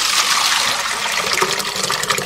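Fermented glutinous rice mash being strained for makgeolli, liquid pouring and trickling steadily through a strainer with a bright splashing gush, close and continuous.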